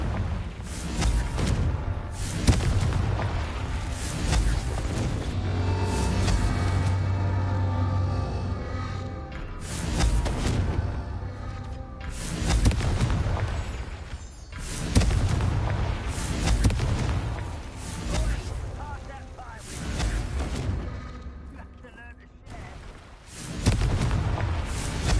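Explosive Confringo spell blasts in a Harry Potter video game: repeated heavy booms and bursts roll across the whole stretch, loud and close, with rumbling between impacts.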